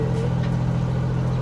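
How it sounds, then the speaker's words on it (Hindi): A petrol car's engine runs at a steady idle, a loud, close low hum with an even rhythmic throb and no voices. "तो पहले इसको स्टार्ट कर रहे हैं ताकि रिवर्स करें"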